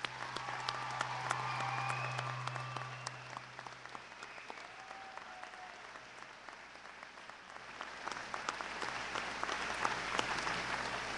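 A large audience at a college commencement applauds the graduates with prolonged, even clapping heard from a distance, swelling and easing over a faint low hum.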